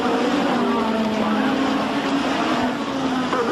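A 1986 Formula 1 car roars through qualifying at Brands Hatch, its engine a loud sustained high-pitched drone that holds steady and then shifts slightly, with no clear talking.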